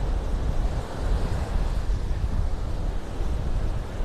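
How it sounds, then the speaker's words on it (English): Ocean surf washes onto Vanderbilt Beach in North Naples, Florida, as a constant broad roar of waves with some wind rumble, heard alone without voices. "The sound of the waves putting you to sleep."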